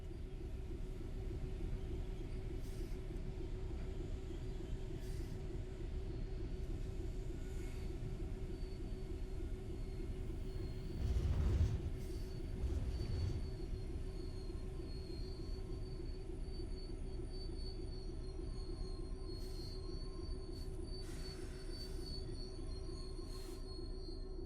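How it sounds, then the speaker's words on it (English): Freight train braking to a halt in a railway simulator featuring F7, Class 66 and BR 182 locomotives, with a steady low rumble under sharp, sustained wheel squeal rising briefly near the middle and continuing to the end. "come to a stop using the direct brake now"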